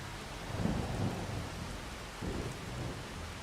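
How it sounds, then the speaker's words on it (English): Steady rain pours throughout, with low rumbles of thunder swelling near the start and again about two-thirds of the way through, no voices over it. "Rain can stop anytime now."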